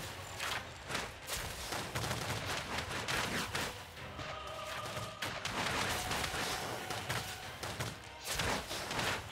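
Cannon fire and battle noise in the Dungeons 3 video game, a dense run of repeated booming shots and impacts at steady loudness, with no talking.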